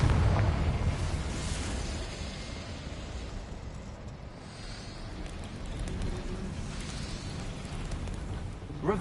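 A Confringo blasting spell goes off in Hogwarts Legacy as a loud, rumbling explosion that bursts at the start, then settles into a sustained roaring boom with a second swell near the end.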